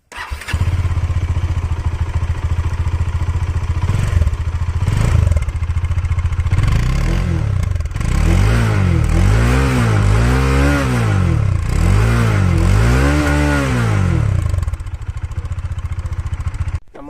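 A Bajaj Dominar 400 motorcycle fitted with an aftermarket silencer revs loudly and close by, with repeated rising and falling throttle blips over a steady idle and no talking.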